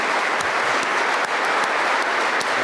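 A large audience at a December commencement ceremony claps in dense, steady, continuous applause that holds at full strength throughout.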